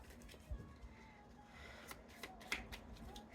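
A deck of oracle cards being shuffled by hand, giving soft, quiet riffling and flicking with a few light taps, close and faint with no talking.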